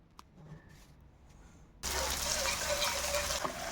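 Lentils (dal) being washed under running water, a quiet start with faint clinks, then a loud steady gush of tap water filling and rinsing in a sink, close by.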